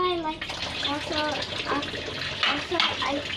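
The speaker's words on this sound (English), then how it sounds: "I wash the plate." A child washing a plate under running tap water, a steady close hiss of water with clinks and splashes, while a young voice talks over it throughout.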